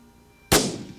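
A single sharp rifle gunshot fired at a pronghorn antelope while hunting, one loud close crack with a short decaying echo after a quiet lead-in.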